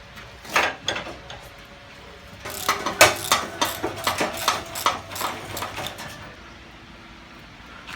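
A wrench works on the bolts of a 1970 Chevelle front bumper, giving short bursts of metallic ratcheting clicks, loudest in a rapid run mid-way, then falling quiet.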